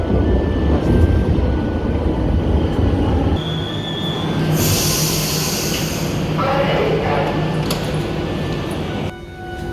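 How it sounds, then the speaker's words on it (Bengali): A train pulls noisily into a station, a loud rumbling roar of wheels and cars with high metallic squeals and hissing brakes, close and dominant throughout. "ওই আসে আমাদের ট্রেন, বেশ নয়েজ করে, হুড়মুড় করে একটা ট্রেন"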